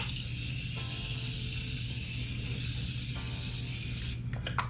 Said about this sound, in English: Before I go in and blend it, I'm going to use my setting spray.